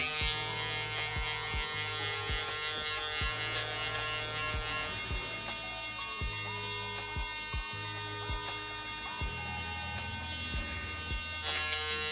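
Electric hair clipper with a 1.5 guard running steadily through hair during a men's haircut, a close continuous buzz whose tone shifts slightly as the blade moves across the head, with no voices.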